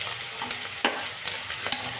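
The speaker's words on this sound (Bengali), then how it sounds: "আর দিয়ে দিলাম কারি পাতাটা কারি পাতাটা প্রথমে দিলেও হতো" Curry leaves sizzle steadily in hot oil while being stirred for chirer pulao (flattened-rice pilaf), with a few sharp spoon-scrape clicks over the continuous frying hiss.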